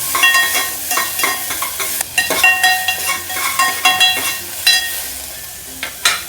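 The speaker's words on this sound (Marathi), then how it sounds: "तेल गरम झालं आहे, तमालपत्र टाकून घेऊ, नंतर कांदा टाकून घेऊ, चांगलं परतून घेऊ" Chopped onion and a bay leaf hit hot oil in a pan for Malwani chhole masala, giving a bright crackling sizzle broken up by repeated scraping and stirring strokes of a spoon against the pan, close and clear with no talking.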